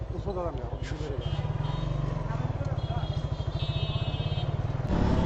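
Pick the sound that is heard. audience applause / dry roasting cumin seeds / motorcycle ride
motorcycle ride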